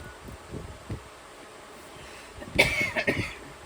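A few quiet, scattered coughs early on, followed by a louder burst of coughing and throat clearing near the end, in a quiet room with ventilation running.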